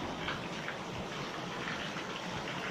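Steady rain pours down outdoors, a dense continuous hiss of drops on surfaces, moderately loud and unbroken, with no talking over it.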